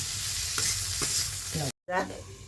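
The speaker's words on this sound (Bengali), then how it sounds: "হলুদ দিয়ে দিলাম, দিয়ে ঢেকে এটা একটু ভেজে নেব" Vegetables with turmeric fry in a pan with a strong, steady sizzle and a few spatula strokes, then a sudden brief cutoff before the hissing resumes close by.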